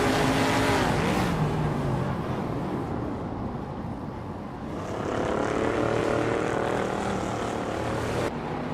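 Race cars launching at the start of a racing video game, loud engines roaring together, with the pitch dipping mid-way before the pack surges again, close and continuous.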